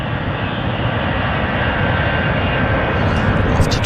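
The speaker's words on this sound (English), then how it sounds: "This aircraft's going to Toronto. It's the Air Canada 104. There it goes. It's rolling." An Air Canada jet airliner, flight 104 bound for Toronto, rolls for takeoff at Vancouver airport, its engines a loud, steady, broadband roar that holds constant and builds slightly toward the end, heard on its own.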